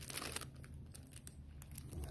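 Double plastic bags holding old Magic: The Gathering cards are handled up close, giving continuous crinkling and crackling with sharper rustles, no talking.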